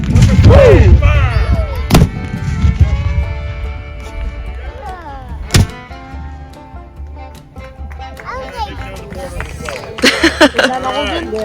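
Loud Civil War reenactment weapons fire in separate blasts, one after another on command, each a sharp boom over crowd noise and outdoor bustle, with people talking throughout.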